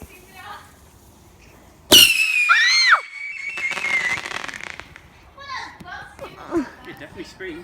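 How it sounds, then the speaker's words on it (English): A lit screamer firework lets out a sudden loud, high whistling shriek lasting about a second, then crackles and pops outdoors while children talk and shout around it. "this says it's a screamer"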